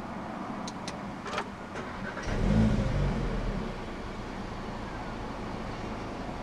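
A 2018 Audi S3 Saloon 2.0 TFSI quattro engine turns over and catches on push-button start, a brief low rumble swelling up after a few faint clicks, then settling into a quiet steady idle.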